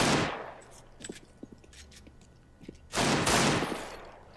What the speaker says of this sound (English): more shooting of the walls